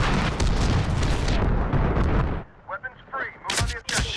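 Gunfire and explosive blasts in the online multiplayer shooter Medal of Honor Warfighter: a dense, loud barrage for about two seconds, then scattered sharper shots and bursts, with a voice briefly heard.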